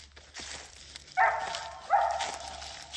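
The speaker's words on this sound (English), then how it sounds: "That dog is barking." A dog barks twice in the distance in dry Alabama woods, a couple of sharp yelps about a second apart, over quiet outdoor background.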